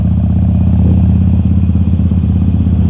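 Harley-Davidson Iron 883 motorcycle running on a rough road in Bali, a steady low engine rumble with rhythmic pulsing and some clatter, loud and close throughout.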